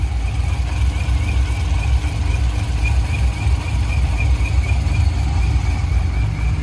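Supercharged 2008 Corvette C6 idling with some valve train noise, a loud, steady, close engine drone with a constant low rumble and even mechanical hiss throughout.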